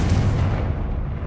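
Explosive fire spell blast from Confringo in Hogwarts Legacy, cast during a troll fight: a loud, dense boom with a rumbling low-end roar that holds steady for about a second, then thins slightly at the tail.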